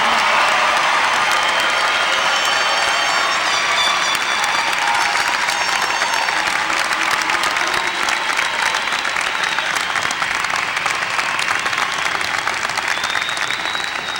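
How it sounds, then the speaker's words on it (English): Commencement crowd applauding and cheering the new graduates: dense, sustained clapping with whoops, steady and loud across the whole stretch, no talk above it. "let's give them a big round of applause."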